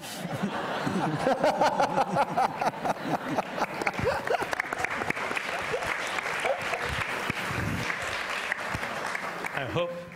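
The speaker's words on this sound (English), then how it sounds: "I hope that you're not applauding for old physics." Loud audience applause fills a hall at a science and opera talk, dense and continuous, with scattered chuckles and voices mixed into the clapping.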